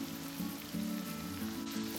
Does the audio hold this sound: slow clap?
no